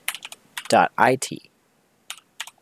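Computer keyboard keys tapped while entering a web address into a browser's address bar, a scatter of quick, close, crisp clicks before and after a short spoken phrase, with a few isolated taps trailing off at the end.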